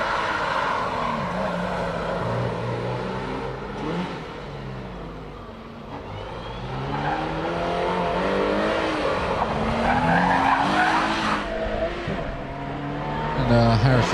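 Subaru race car climbing a lakeside hillclimb course toward the finish line, engine revving and shifting through rising and falling pitches with tyre squeal, loud and continuous, under a commentator's voice.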